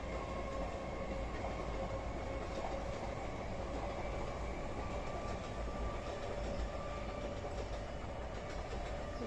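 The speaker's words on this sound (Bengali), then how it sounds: "আবার এখন ট্রেন যাচ্ছে" A train rolls past steadily for the whole stretch, a loud continuous rumble and clatter of rail cars with no break or fade.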